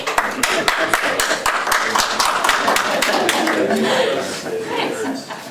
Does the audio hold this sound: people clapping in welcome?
yes